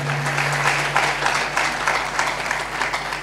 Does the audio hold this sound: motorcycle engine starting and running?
no